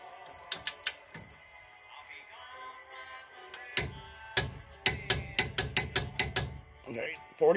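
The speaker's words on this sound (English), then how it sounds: "Tighten it, you feel it click." A foot-pound torque wrench gives sharp ratcheting clicks while tightening a nut: an early cluster of three clicks, then after a pause a rapid, loud run of about eight close clicks.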